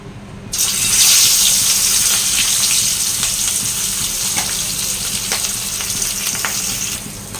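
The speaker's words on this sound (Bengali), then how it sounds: "তেলটা গরম হয়ে গেলে আগে হচ্ছে মেয়ের জন্য যে মাছটা রেখেছি ওটা ভেজে নেবো" Fish sizzles loudly in hot oil in a wok in a home kitchen, a steady close frying hiss that starts abruptly and continues with small pops and crackles, no voices.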